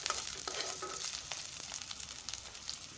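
Ginger, garlic and chili sizzle and spit in hot oil over a high gas flame, a steady dense crackle with scattered sharp pops, close and continuous with no voices.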